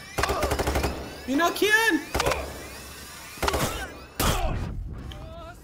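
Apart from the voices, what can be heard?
gunfire in video game Payday 3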